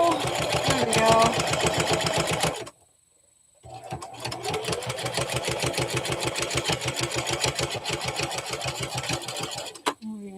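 A sewing machine stitches a small mouse softie in rapid, even needle strokes, running close and loud, pausing briefly near the middle, then resuming before a final clunk; a voice is heard faintly at the start.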